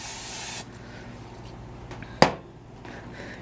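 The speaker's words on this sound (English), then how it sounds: "You just spray it so things don't stick." A can of zero-calorie cooking spray hisses onto a pan in a short burst at the start, followed by a sharp click or tap and quieter kitchen handling.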